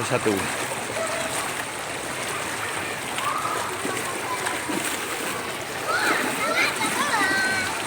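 Flood water about 70 cm deep runs steadily through a city street, a continuous rushing, splashing wash with a few louder sloshes toward the end and faint voices underneath.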